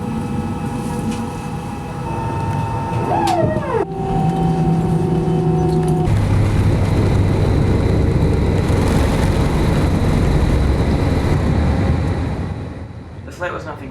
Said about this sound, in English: On board this Airbus.